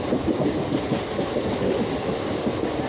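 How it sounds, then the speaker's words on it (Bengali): A train rumbles steadily along the rails, a continuous low roar with faint rhythmic clatter, heard from on board or close by, no voices. "তখন ট্রেন আসছে।"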